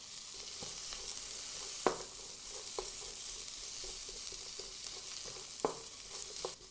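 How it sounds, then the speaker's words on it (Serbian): Onion and bell pepper fry in olive oil in a deep pan, a steady soft sizzle with a few sharp clicks of stirring, close and on its own. "Ulje se zagrelo i propržit ću luk i papriku."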